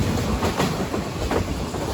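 Tista Express passenger train running on the rails from Dhaka toward Dewanganj, heard from on board as a continuous loud rumble with rhythmic clickety-clack of wheels over rail joints, no voices.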